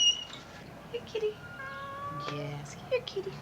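A domestic cat meows several times outdoors, short rising cries scattered through the clip, with a faint background hum and distant low noise and no speech over them.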